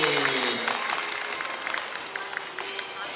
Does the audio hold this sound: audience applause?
yes